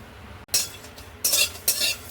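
A spatula scrapes dried and green chillies, black cumin and garlic around a dry wok in three short, harsh bursts, close and loud, separated by brief pauses.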